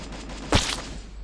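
A single gunshot bursts out in a Free Fire match, one sharp loud crack about midway that rings briefly and decays into a steady background hum, with no other shots around it.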